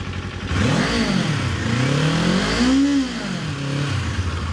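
A 2024 Kawasaki Z500 Standard Edition motorcycle engine is blipped up from idle twice, the pitch rising and falling with each rev, loud and close, then settling back to idle.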